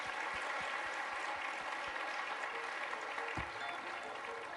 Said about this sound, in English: let me invite our audience to offer a vote of thanks and applause to our three panelists.